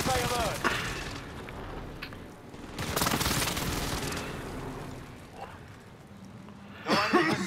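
Explosions and gunfire from an enemy precision airstrike in a shooter video game, heavy booming blasts and scattered shots in bursts, with a voice speaking over the action.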